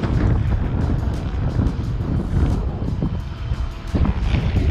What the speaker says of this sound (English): Like I said, it's super windy